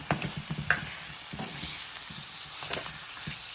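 Onions sauté in a pan for bitter gourd thiyal, a steady moderate sizzle punctuated by several rhythmic scrapes and taps of a spoon stirring against the pan.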